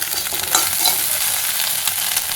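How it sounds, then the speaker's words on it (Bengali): An egg frying in hot oil in a pan gives a close, steady sizzle with crackles and stirring scrapes throughout, with no talking. "ডিমটা প্রথমে তেলের মধ্যে এরকম করে ভেজে নিচ্ছি, তুমি দেখতেই পাচ্ছ ডিমটা ভেজে নিচ্ছি"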